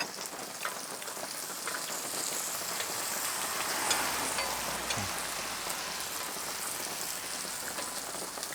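Garlic frying alongside pork belly in a pan gives a steady, fairly quiet sizzle and crackle like rain, close by and continuous with no voices.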